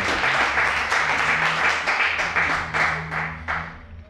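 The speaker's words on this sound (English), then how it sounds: "Let's give Brother Rahn Jakam a great round of applause." An audience at a 1998 poetry reading applauding poet Rahn Jakam: a loud, dense burst of clapping that stays full for several seconds, then tapers off.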